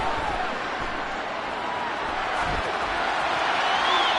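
Steady crowd roar fills an American football stadium during a tense fourth-down play near the goal line, a broad continuous wash of cheering and noise with a slight swell toward the end.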